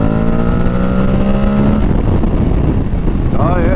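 Aprilia Tuareg 660 motorcycle accelerating on a demo ride, engine note rising steadily through a gear, loud and close with heavy wind rush over the rider's helmet.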